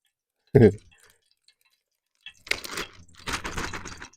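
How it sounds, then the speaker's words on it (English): Rainwater drips from hemlock trees onto a covered campsite on a wet day in a Nova Scotia forest: one sharp nearby drip lands first, and after a quiet stretch come denser crackling drips and patters. "There's the odd drip coming down from the trees."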